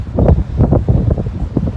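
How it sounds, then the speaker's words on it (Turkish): Steady gusting wind at a seaside pier in Tekirdağ, Turkey, buffets the microphone with low rumbling noise throughout, loud and close, with no talking. "Rüzgar var."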